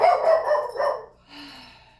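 A small dog barks in several sharp, yappy bursts close by, then gives a softer, higher whimpering yip as the barking trails off.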